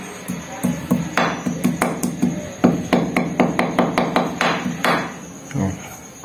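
Steady hammer blows ring out at a regular pace, a dozen or more sharp metallic strikes, close and fairly loud.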